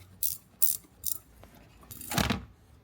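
A ratchet undoes transfer case bolts under a vehicle with short quick clicking bursts, three in a row, then a longer ratcheting run, close and fairly quiet, no talk.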